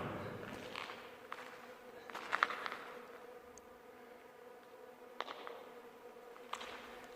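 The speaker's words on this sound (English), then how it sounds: "If you can hear that, there must be some bees or flies in here or something." Insects buzzing inside a dark, beehive-like structure passed on a cycling tour in Greece, a faint steady drone with a few brief louder bursts and clicks, no one talking.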